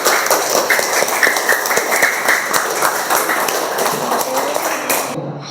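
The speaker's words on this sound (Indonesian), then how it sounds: "Oke, kasih tepuk tangan untuk kelompok 1." Classroom applause for a student group during a teaching practice session: a dense, steady patter of many hands clapping at close range, holding for several seconds, then cutting off abruptly near the end.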